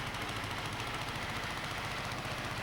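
An unrestored vintage Ransomes market garden tractor engine runs at a steady, rough idle, a continuous close mechanical drone with a fast knocking pulse and no pauses.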